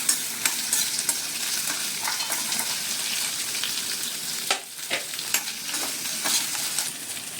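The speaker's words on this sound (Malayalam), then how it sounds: "ഇതൊക്കെ ഇട്ടിട്ട് ഒന്ന് നല്ലോണം മൂക്കണ വരെ ഫ്രൈ ചെയ്തെടുക്കും." Green chillies, garlic and ginger fry in a pan with a bright, continuous sizzle, punctuated by spatula scrapes and taps, close and fairly loud.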